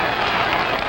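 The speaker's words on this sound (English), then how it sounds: "The crowd is applauding as the old pro that" Crowd at a Sonny Liston versus Bert Whitehurst boxing bout applauding as the round closes, a dense, steady wash of distant clapping and crowd noise with no clear breaks.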